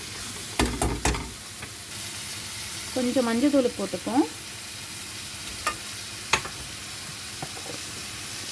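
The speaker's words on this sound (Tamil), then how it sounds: "அதனால தான் நல்லா வதக்கி விட்டுப்போம்" Mushrooms and spices sautéing in a pan while being stirred for a mushroom gravy, with soft sizzling and several clattering stirs, and a person speaking briefly over the cooking.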